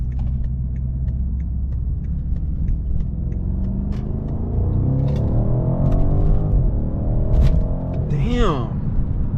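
A BMW M550i's engine rumbles steadily from inside the car while driving, a deep continuous drone that swells slightly midway, with a brief higher whine near the end.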